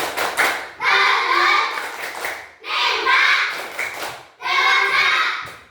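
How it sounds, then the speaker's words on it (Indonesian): A third-grade class claps and chants together about incomplete metamorphosis, in three loud rhythmic bursts of hand claps mixed with children's voices, with short pauses between them. "Tepuk tangan metamorfosis tidak sempurna"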